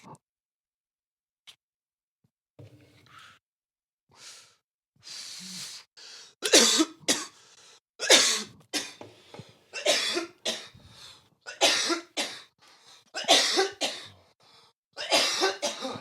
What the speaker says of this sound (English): This coughing break brought to you by marijuana.